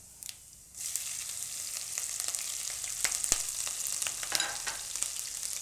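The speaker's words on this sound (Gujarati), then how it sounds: "તો તેલ આપણું ગરમ થઈ ગયું છે, એમાં આપણે પહેલાં જીરું નાખીશું અને મરચાં" Cumin seeds and chillies dropped into hot oil: after a quiet start with a few ticks, a bright crackling sizzle bursts in and carries on steadily with sharp pops and spatters, close and fairly loud, with no voices.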